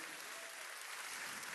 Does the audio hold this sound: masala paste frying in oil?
no